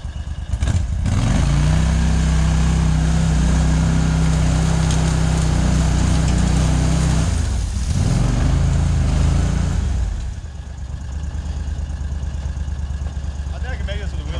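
A 2021 Argo Frontier 6x6 engine drives through mud, loud and close, with a strained, laboring tone that dips briefly midway, then drops to a lower, rougher idle for the last few seconds.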